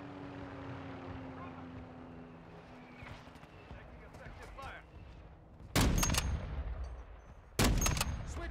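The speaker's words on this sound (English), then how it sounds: "Our mortar strike is inbound." Two loud, broadband explosions from a mortar strike in Call of Duty: Modern Warfare 2 Team Deathmatch erupt several seconds apart over a busy game soundscape of distant gunfire and aircraft drone.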